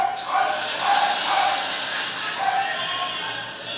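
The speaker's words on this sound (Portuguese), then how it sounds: "Gente, não repare os cachorros, tá?" Several high-pitched dog yips and barks repeat in quick bursts, fairly close, over a steady background hiss.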